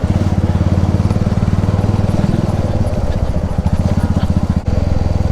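An Italjet Buccaneer 250cc V-twin motorcycle engine runs close by with a loud, steady, rapid pulsing throb that holds an even rhythm throughout.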